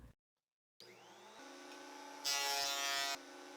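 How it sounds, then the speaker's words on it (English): A wood planer starts up with a rising electric whine and settles into a steady hum, then roars louder for about a second as a board feeds through before dropping back to idle. It is close, with no voices. "I'll take it to the planer to clean the surfaces"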